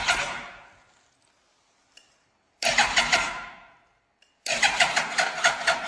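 A Yamaha R1 motorcycle engine being restored from a wreck, cranked and catching in loud, short bursts separated by silence, each burst sputtering and rattling before dying away, with small clicks in between.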